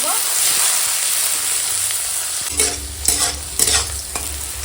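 Bitter gourd fries in oil in a pan with a steady, close sizzle, then a spatula stirs it in a few loud scraping bursts toward the end; no one speaks.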